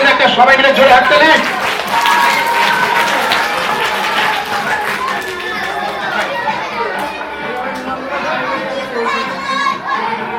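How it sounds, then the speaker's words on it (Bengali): Children in a school audience at a magic show clap together in a loud burst that gradually thins out, with children's chatter and voices mixed throughout. "সবাই মিলে জোরে হাততালি"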